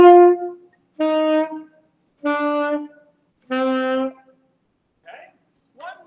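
A beginning school band plays four separate notes stepping down one at a time, each held about half a second with silent rests between, close and moderately loud, followed by two faint brief sounds.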